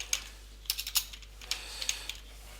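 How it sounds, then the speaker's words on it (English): A computer keyboard is tapped in short bursts of crisp keystrokes while a command is entered at the command prompt, close and moderately quiet over a low steady hum. "and type in ipconfig."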